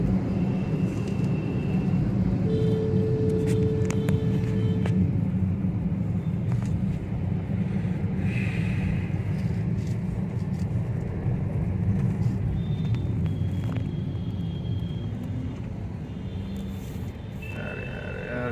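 Road traffic in a long jam of roughly two kilometres, with wrong-side vehicles adding to the congestion: a steady low rumble of idling engines inside a vehicle, with brief higher tones and faint distant horns.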